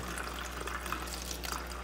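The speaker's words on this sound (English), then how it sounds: "take my existing culture and we're gonna pour it into this bottle here" A faint, steady trickle of liquid as phytoplankton culture is poured from one bottle into another, a continuous soft splashing with no talk.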